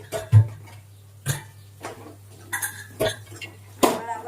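A spoon stirs spices into chickpea curry in a pot, making sparse metallic clinks and scrapes spaced about a second apart, close and moderately loud, with no talking.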